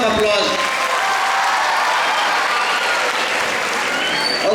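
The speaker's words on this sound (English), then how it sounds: "Let's give it up to them for a huge round of applause." Sustained, dense applause from a large audience at a school diamond jubilee celebration in Mumbai, steady and loud throughout with a hint of crowd noise.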